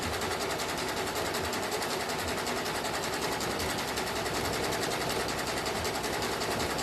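A sewing machine sews polyester clothesline rope into a coaster with a continuous, loud, close mechanical whir of rapid even stitching that never breaks.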